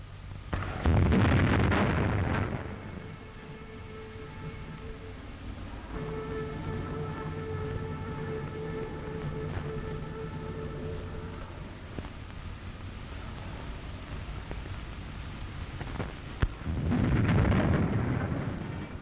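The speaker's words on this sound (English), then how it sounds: "A cannon shot announced the hour of 11" A deep, rolling boom from a cannon blast marking 11 o'clock in Paris in 1945, then sustained tones in the middle, and another heavy boom near the end.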